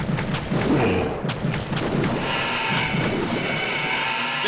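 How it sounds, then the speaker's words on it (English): A shotgun fires in an FMV horror video game, a deep booming blast followed by rumbling tails and a mechanical rattle, loud and close with no talking. "Arming shotgun."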